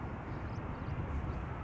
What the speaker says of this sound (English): A320 arriving from Stockholm, flight 1553.